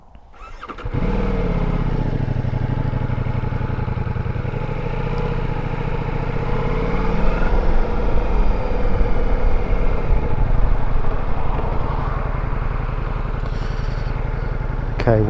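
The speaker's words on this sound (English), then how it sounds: "start the bike back up again" A Ducati Multistrada V4S motorcycle engine fires up and settles into a loud, steady rumbling idle close by, with a slight rise in revs midway and no talking.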